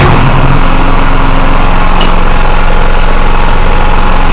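A repaired generator engine runs just after starting, a loud, steady close chugging drone with a constant vibrating rhythm that stays even throughout.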